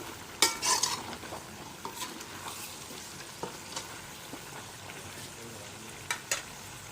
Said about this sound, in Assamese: এতিয়া কেপচিকাম আৰু বিলাহীখিনি দি দিওঁ। বিলাহী আৰু কেপচিকামটো অকণমান দেৰি গলিবলৈ দিয়া হ'ব।